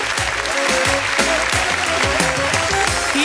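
An audience at a village celebration with a live band claps steadily over loud, continuous music, a dense wash of applause layered on the rhythmic playing.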